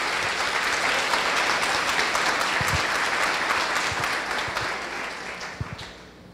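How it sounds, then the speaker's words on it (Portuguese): Audience applauding at a forum session, a steady dense wash of clapping that holds for several seconds, then thins and tapers off toward the end, with a few isolated claps standing out. "Aplausos para eles"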